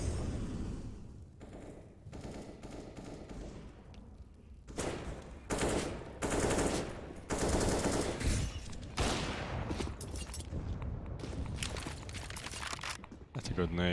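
AK rifle fire in a Counter-Strike match plays out in repeated bursts of gunshots, some rapid and clustered, with quieter gaps and footsteps between them and commentators' voices running underneath.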